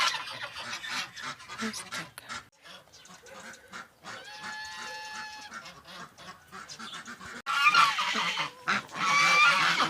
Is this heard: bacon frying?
no